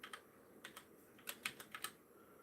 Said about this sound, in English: I'm going to type weird so that you can't actually get it.